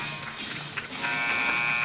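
A loud, steady buzzer sounds at the end of the first half of a college men's basketball game, a continuous electronic drone that holds for nearly two seconds.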